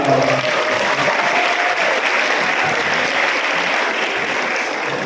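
A school audience claps in sustained applause, a dense and even patter, with a voice heard briefly at the very start.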